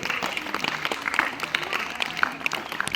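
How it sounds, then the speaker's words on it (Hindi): Students applauding at a school assembly, steady scattered clapping from a crowd that carries on throughout at moderate distance, with faint voices mixed in. "बाकी लोग ताली बजाइए, सीनियर लोग।"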